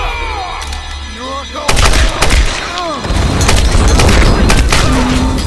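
Submachine gun fire in the Tomb Raider video game, loud automatic bursts that start abruptly and run on in a dense, continuous rattle with booming impacts.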